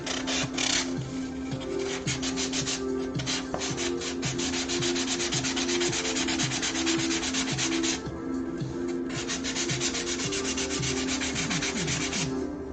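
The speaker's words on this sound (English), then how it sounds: "it clogs up that sanding sponge real fast" Sanding sponge scrubbed steadily across carved stylized terrain rock, a dense close rasping rub with quick repeated back-and-forth strokes, loud and continuous with a brief lighter patch midway.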